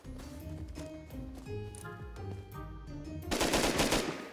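Gunfire rattles in a Rust raid game, with rapid rhythmic bursts of shots and an automated turret firing, then a louder dense burst of noise toward the end.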